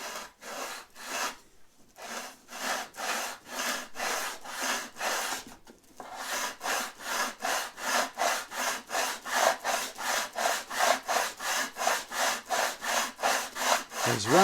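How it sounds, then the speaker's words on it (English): A sanding block is rubbed back and forth along the edge of a wooden wing panel in quick, even strokes. The rasping passes are close and regular, with one brief pause early on. "is run the sanding block along the edge."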